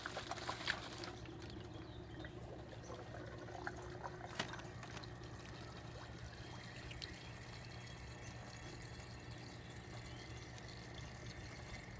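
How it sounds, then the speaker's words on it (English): Water swirls and gurgles between two soda bottles joined neck to neck, a faint, continuous liquid rush and trickle lasting several seconds, with a few soft knocks and no talking. "I am going to make a water spout out of 2 water bottles and this"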